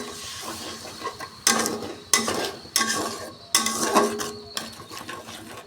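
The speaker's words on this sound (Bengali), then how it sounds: "এতে আমি সামান্য একটু জল দিয়ে আরও নাড়ে চেড়ে নেব" Flour dough with a little water being stirred and worked in a pot, giving bursts of scraping and clattering in uneven strokes, loud and close, with quieter gaps between them and no talking.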